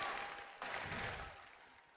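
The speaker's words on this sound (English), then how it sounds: "Give yourselves a big round of applause" Audience applause in a large hall at a FIRST robotics state championship, a brief burst of clapping that swells midway and then slowly fades.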